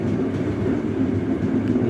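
A steady, loud, close rumble of rolling wheels and carriage noise comes from inside a Bengawan passenger train as it nears Bekasi station.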